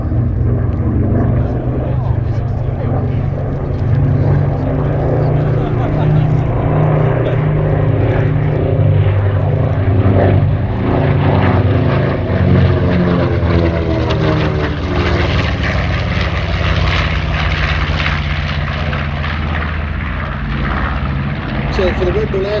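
A vintage propeller warplane flies at the Flying Bulls Sywell airshow, a loud continuous engine drone with shifting tones as it passes close by, a commentator talking over it throughout.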